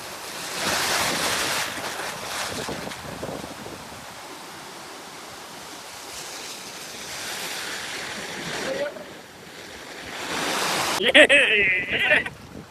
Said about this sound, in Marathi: तर ते बॅक वॉटरचं पाणी येतंय खाली